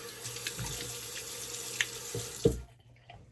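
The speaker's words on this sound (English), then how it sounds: "And then I rinse it with very cold water." Cold tap water runs steadily from a faucet into a sink while the face is rinsed after shaving, with a few splashes near the end before the flow cuts off abruptly.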